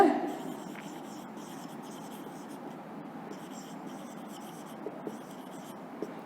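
A teacher writes notes during an English poetry lesson, producing a steady, quiet scratching of marker or chalk on a board that runs continuously at low level, with no talk over it.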